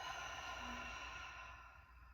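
A single slow deep exhale during a guided meditation, soft breathy air close to the mic over a quiet steady room hiss, fading gently toward the end.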